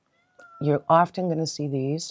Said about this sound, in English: I hope you can hear the cat behind me meowing.